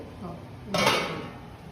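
A metal lid settles onto a pot of shrimp curry with a single brief clank and rattle, close and moderately loud against quiet kitchen background.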